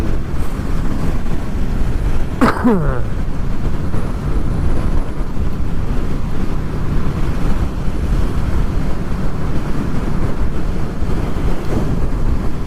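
Heavy wind buffeting across a microphone while riding a Honda VFR800 motorcycle in wet weather, a loud, constant roar throughout with one brief whistle-like sweep early on.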